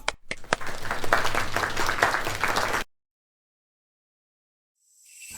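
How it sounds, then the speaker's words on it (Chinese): Loud audience applause at an antique appraisal contest, a dense burst of many hands clapping for about three seconds before cutting abruptly to silence. "鼓掌！"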